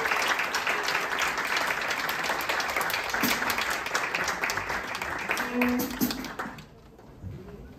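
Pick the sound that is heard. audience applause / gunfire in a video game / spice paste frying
audience applause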